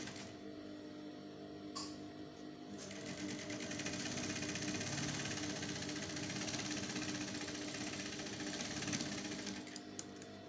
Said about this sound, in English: So I'm going to sew